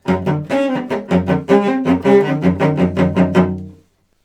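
A short passage from a trio for violin, cello and piano, played in rhythmic detached chords that pulse along before stopping, heard clearly without any speech.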